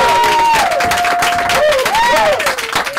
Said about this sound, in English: a big round of applause for Gianfranco.